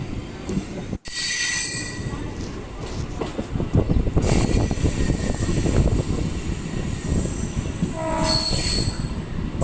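A Chennai–Tiruttani local train rumbles along the rails up close, wheels clattering and squealing, with a loud horn-like blare near the start and again near the end.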